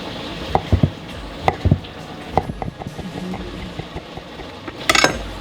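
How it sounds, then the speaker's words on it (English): A knife slices sausage links lengthwise on a cutting board while making chili, giving a handful of sharp, close taps and thuds spread irregularly with quiet gaps between, then a brief scraping burst near the end. "I'm just going to basically quarter each sausage link"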